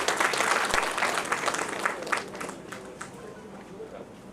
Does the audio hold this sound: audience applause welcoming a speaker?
yes